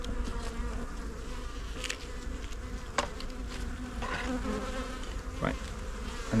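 A honeybee colony hums steadily inside an opened hive box during an inspection after swarming, with a new queen somewhere among the frames. The dense, close buzz holds throughout with small swells and no talk.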